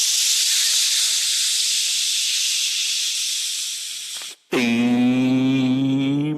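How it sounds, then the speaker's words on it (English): A loud, steady steam-release hiss blasts continuously for about four seconds, cuts off abruptly, then gives way to a bright, sustained whistle-like tone with many stacked harmonics. "Steam release"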